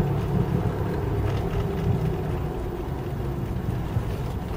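A 1978 Ford LTD drives along with a loud rear end, producing a steady heavy low rumble and road roar that fills the cabin without pause.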